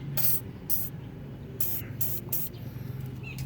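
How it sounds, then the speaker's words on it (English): Aerosol lubricant sprayed onto the release pin of a stuck car fuel door, heard as several short hissing bursts of about a quarter to half a second each, spaced irregularly over low background rumble. "Now grab a lubricant and just spray it on the pin"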